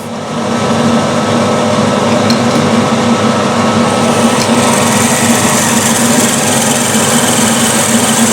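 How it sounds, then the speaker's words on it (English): A 5mm drill bit cuts metal, running loud and steady with a constant mechanical whine and hum, without a break for several seconds. "now we've got a 5mm drill in, which is the clearance drill."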